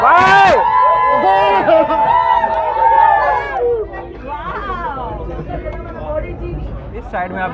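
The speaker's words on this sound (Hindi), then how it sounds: "साइड में आप भीड़ देख सकते हैं बहुत ज्यादा" Large crowd chattering and calling out at a train inauguration, a dense babble of many voices with a loud nearby voice and a whoop early on, fading to steady background hubbub.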